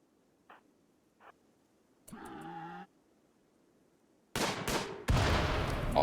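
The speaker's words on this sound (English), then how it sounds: "Oh, that was such a cool explosion." A boomalope explodes in RimWorld: a sudden loud burst near the end, followed by a second blast and crackling roar, after quieter bleats and a brief creature cry earlier.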